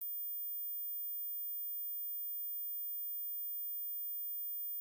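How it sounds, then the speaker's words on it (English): A steady, high-pitched pure tone holds unbroken for about five seconds, quiet and alone with no other sound. "If you heard this high frequency sound, like the video and leave a comment."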